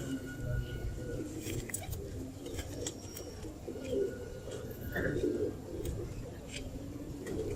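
Pigeons coo softly in a noisy room. The low, murmuring calls repeat through a constant background hum, and no one speaks over them.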